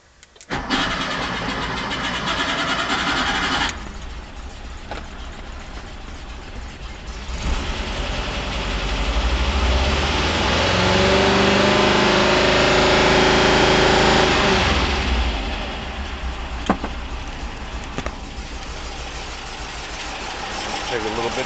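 A 1975 Porsche 914 running old gasoline cranks with a rapid whirring starter, then catches and fires, swelling into a loud rev before dropping back to a rough, steady idle close by.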